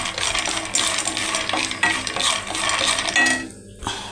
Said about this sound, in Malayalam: കപ്പലണ്ടി ഇട്ടിട്ടുണ്ട്. ഇതിനെ നമുക്ക് വറുത്തെടുക്കാം.